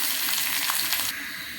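Chopped onion, garlic and chili fry in a pan with a steady, close hiss and crackle, a brief continuous sizzle with no talk.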